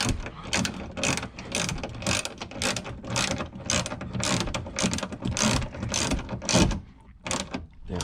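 Rapid ratchet clicking as a seat belt adjustment assembly bolt is driven in on a Honda Fit, with close, loud bursts of pawl ticks that pause briefly between strokes and fade near the end.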